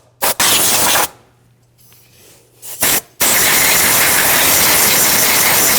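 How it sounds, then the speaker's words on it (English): An air blowgun hisses in two short blasts separated by a quiet gap, then a long continuous loud spray, blowing dust and dirt off parts during fuel tank sending unit work on a 2006-2009 Mercedes-Benz E350 with a 3.5L V6. "I'm just taking a blowgun, just gonna blow out some of the dust and dirt"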